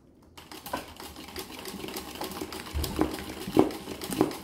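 A machine-embroidery sewing machine stitches a flower design, giving a continuous, close mechanical whirr with rapid rhythmic needle clatter and a few sharper ticks toward the end.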